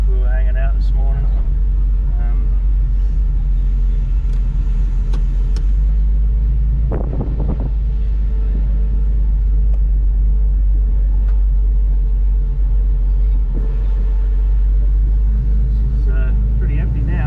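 A 1970s-era VJ Charger with a HEMI 6 265 engine, triple Weber carburettors and solid cam drones in a steady low rumble from inside the car while driving, with someone talking over it.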